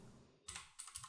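Quick keystrokes on a computer keyboard at a desk, a short burst of a few close, crisp clicks following a brief faint rustle.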